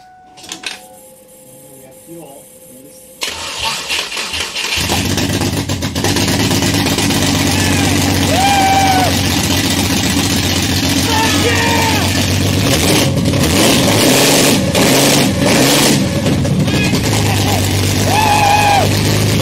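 A Barra engine swapped into a Mustang starts after a quiet stretch, catches and roars into a loud, sustained rev that holds steady and close for the rest of the stretch, with voices chattering over it.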